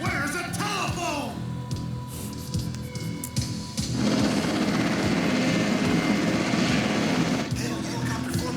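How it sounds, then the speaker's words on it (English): A formation of military helicopters in the anime film Patlabor 2, a loud, continuous rotor and engine roar that swells and grows denser partway through, with voices and radio chatter heard over it. "Helicopter formation ahead."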